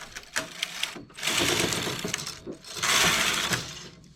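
A manual knitting machine carriage runs back and forth across the needle bed knitting two rows of jacquard, giving two long rattling, whirring passes with clicks and brief pauses between them.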